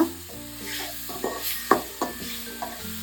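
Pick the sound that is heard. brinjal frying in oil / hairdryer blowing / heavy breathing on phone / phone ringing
brinjal frying in oil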